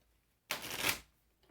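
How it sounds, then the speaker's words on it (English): A deck of playing cards gets one quick riffle shuffle, a close, crisp burst of flicking lasting about half a second in an otherwise quiet room. "So I have shuffled my deck of cards."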